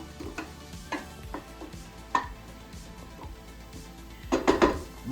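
Vegetables cooking in a frying pan until tender, with soft sizzling under a series of sharp utensil clicks and scrapes against the pan, a cluster of clatters near the end.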